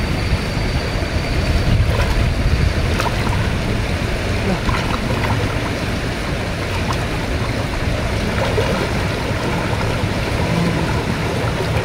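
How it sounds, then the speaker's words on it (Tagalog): A strong river current swollen by rain rushes past close by. It makes a loud, steady, continuous roar of churning water with no pauses. "Sobrang lakas ng daloy ng tubig dahil sa ulan."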